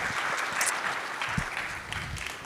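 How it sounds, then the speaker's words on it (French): A conference audience at the Forum 2MF 2024 maintenance event applauds a speaker being introduced, a steady, busy roll of hand clapping heard alone at moderate loudness. "On peut l'applaudir."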